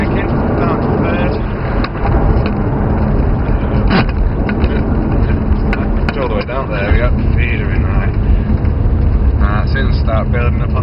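A Lamborghini Gallardo engine on a track day at a race circuit, loud and steady as the car builds power, droning continuously with a constant rumble and wind roar from inside the cabin.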